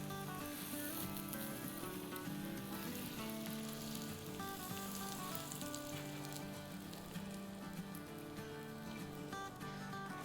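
A sandwich toasts in a hot pan with a steady, soft sizzle and crackle that runs the whole time, faint and even, over a quiet tonal background.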